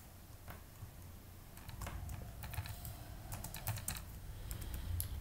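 Code is typed on a computer keyboard in soft, rapid clicking runs and brief pauses over faint room hiss, quiet and without speech.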